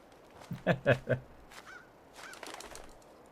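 Bird calls in the video game Fallout 4: a burst of three loud honking squawks, then a couple of fainter chirping calls, with some quiet background noise.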